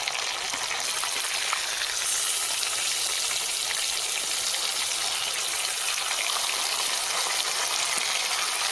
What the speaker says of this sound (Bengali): মাছ এক সাইডে ভাজা হয়ে গেছে উল্টে নিয়ে খুব বেশি কড়া করে ভাজবো না হালকা করে ভেজে নেবো